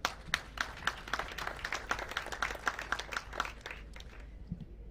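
Audience applause at the Africa Climate Summit, a steady patter of many hands clapping at moderate distance that thins and fades toward the end.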